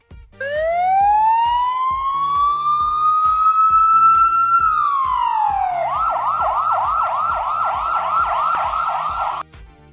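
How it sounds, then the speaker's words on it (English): A police car siren rises into a long sweeping wail, then switches to a rapid repeating yelp, loud and close for nearly ten seconds before cutting out, no talk. "police"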